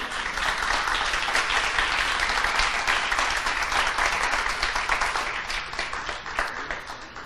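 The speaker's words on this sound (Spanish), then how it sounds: "este aplauso de cariño es para ustedes, es un agradecimiento" A videoconference audience gives warm applause of thanks to the speakers, a steady, dense patter of many hands clapping that holds for several seconds and tapers slightly at the end.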